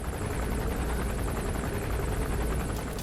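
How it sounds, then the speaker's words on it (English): Helicopter in Metal Gear Solid 5: The Phantom Pain, a loud, close rotor roar with rapid chopping beats and a whining turbine over heavy low rumble, constant for a few seconds. "this is the first time I've encountered a helicopter"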